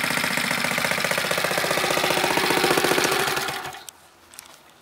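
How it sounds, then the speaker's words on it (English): A vintage Honda CT70 mini trail bike with an 88cc big bore engine revs hard in a rapid, buzzing pulse, then the engine note drops away abruptly toward idle near the end. "you'll start winding it out to get to the extra 10 miles an hour out of the engine"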